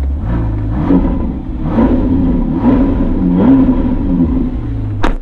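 A Ferrari Portofino twin-turbo V8 with the roof closed pulls away in repeated surges, a loud, close low growl rising in pitch through several gear changes, with a brief sharp noise at the end.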